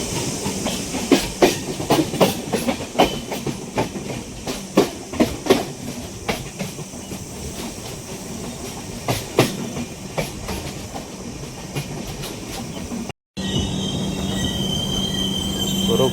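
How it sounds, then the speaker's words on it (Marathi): The Madgaon Summer Special train (01119) runs with loud, sustained wheel squeal and a steady rail hiss, punctuated by rhythmic clickety-clack beats close by. There is a brief dropout near the end. "ही ट्रेन आली आणि आपली ट्रेन सुटली आता."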